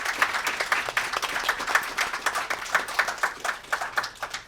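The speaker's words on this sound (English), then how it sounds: "Let's give him a round of applause" An audience at a tourism presentation on Zimbabwe claps in steady, dense applause, many hands together, loud and sustained for several seconds.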